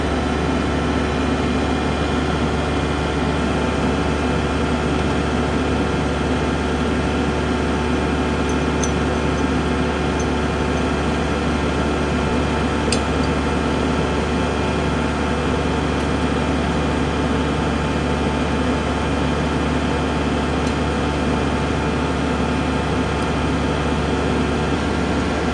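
A tractor engine runs steadily for the whole stretch, a constant low drone with no pauses, fairly loud and close, with a mower set up nearby and no voices.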